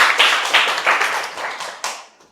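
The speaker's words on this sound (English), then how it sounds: "Give applause." Audience applause at an international short course session, a burst of clapping that swells in several waves and then tapers off near the end, with no talking over it.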